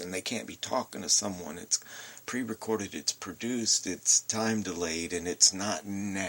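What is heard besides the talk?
None of the usual background noises is heard.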